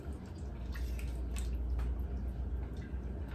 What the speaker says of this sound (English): Stir this on up.